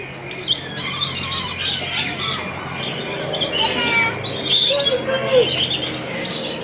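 Lorikeets squawk and chirp in a zoo aviary at the Birmingham Zoo in Alabama, with loud, overlapping shrill calls in irregular bursts close by and a steady hum beneath.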